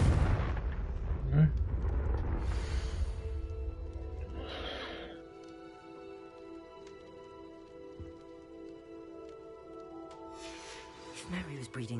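In the Hogwarts Legacy video game, a Confringo fire spell goes off in a cellar with a heavy booming blast and rumbling roar that fades into a quieter, ringing ambience, followed by a second burst near the end.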